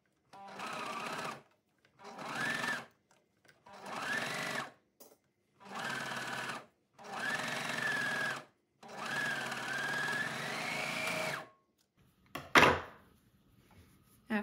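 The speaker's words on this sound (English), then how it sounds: "I'm going to go sew this in place" Sewing machine stitching a cardigan sleeve cuff, running in six steady bursts of whirring motor separated by short pauses, close and clear, ending with a few clacks.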